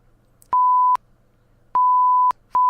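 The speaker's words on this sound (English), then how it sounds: "all those swear words will be beeped out" Three steady 1 kHz censorship beeps of about half a second each, loud and clean, covering swear words in a podcast conversation, with quiet pauses between them.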